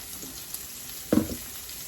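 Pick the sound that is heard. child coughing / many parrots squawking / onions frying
onions frying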